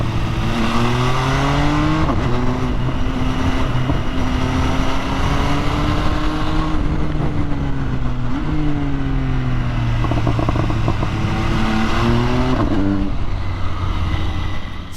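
MV Agusta Brutale 950 prototype naked motorcycle exhaust while riding, a loud, steady engine note rising and falling through gear changes, close and continuous with no talk.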